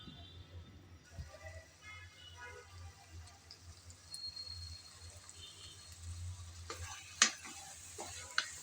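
Broiler chicken cooking down in a pan of spices and oil, a spoon scraping and stirring in bursts over a soft, steady sizzle, with sharper clinks of the utensil near the end.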